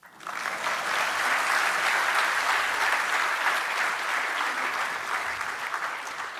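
An audience of the Indian community in Brisbane applauds steadily for several seconds, a dense, even wash of clapping with no talk.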